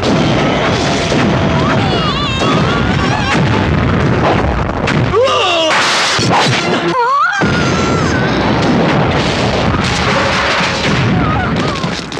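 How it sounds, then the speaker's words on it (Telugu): Loud, relentless bomb blasts and gunfire fill an action film battle scene, with booming bursts layered over shouting voices throughout. "బాంబు పేలిపోతుంది"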